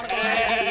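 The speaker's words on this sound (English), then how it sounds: "you should be content as these two goats" Two content goats bleating, a single sustained wavering bleat heard close and clear with no talk over it.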